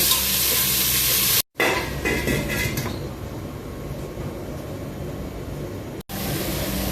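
Crushed ginger and garlic sautéing with onion in a pan for chicken curry with coconut, a steady hiss of frying with a burst of sizzle and stirring scrapes early on, then a quieter continuous crackle, no talk.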